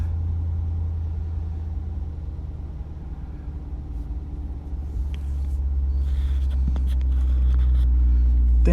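A 2020 C8 Corvette is driving, heard from inside the cabin as a steady, deep engine rumble and road noise that swells louder near the end.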